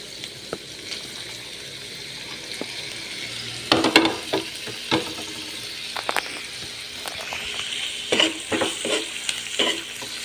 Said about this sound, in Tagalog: nagigisa na po tayo ng bawang, sibuyas, tsaka yung giniling natin